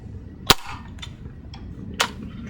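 A Benjamin Trail NP air pistol fires twice, each a sharp, close crack about one and a half seconds apart, with faint small ticks in between over a quiet room.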